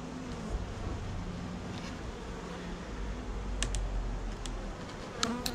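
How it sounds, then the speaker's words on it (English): A dense, steady buzz from many honey bees in an open Apimaye beehive during an inspection, close and continuous, with a few faint clicks and taps near the end. "Still, there are a lot of bees in this one."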